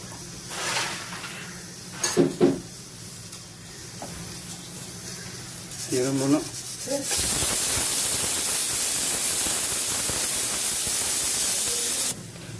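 Cumin seeds hit hot oil in a pan and burst into a loud, steady sizzle that runs for several seconds, after a few brief clinks and stirring sounds, then cuts off abruptly near the end.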